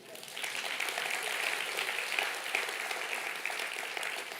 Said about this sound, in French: Oui, vous pouvez acclamer la parole de Dieu.